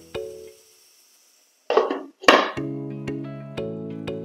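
A metal lid is set onto a cooking pan of potol posto, giving a couple of sharp clanks and scrapes followed by several ringing metallic taps that decay, close and clear with no talk.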